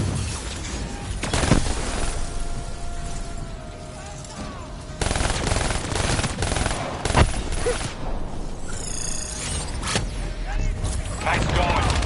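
Rapid gunfire in Call of Duty: Black Ops 3, shooting down vats, comes as loud automatic bursts with sharp impacts and mechanical clanks, over a dense background of combat noise.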